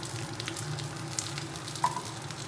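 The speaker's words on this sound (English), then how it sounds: "We have a little bit of a baby yellow squash here. I'm just gonna saute this." Baby yellow squash sautéing in a pan with a steady, soft sizzle throughout, plus a couple of faint utensil clicks near the end.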